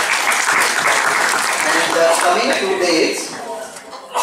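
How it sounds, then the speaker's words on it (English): An audience at a felicitation event claps in a dense, steady burst under someone speaking, the applause fading toward the end. "Let's have a round of applause."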